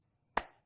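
One crisp hand clap up close, a short sharp smack with a brief decay and silence around it.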